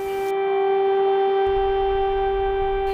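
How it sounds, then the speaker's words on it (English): Air raid sirens sound over Kyiv, Ukraine, as a steady, loud, sustained tone with layered harmonics that holds for the whole stretch without voices. "woke up in disbelief to the sound of sirens"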